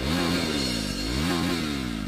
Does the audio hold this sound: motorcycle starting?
yes